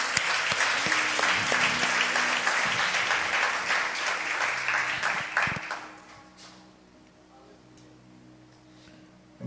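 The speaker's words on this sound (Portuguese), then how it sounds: "Você pode aplaudir a Jesus?" A church congregation claps together in a dense, loud burst of applause that carries for several seconds, then thins out and fades into the quiet of the room.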